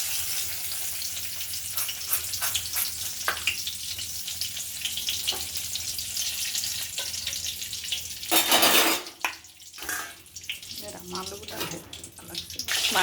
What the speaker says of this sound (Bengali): মাংসের আলুগুলো একটু ভেজে নিচ্ছি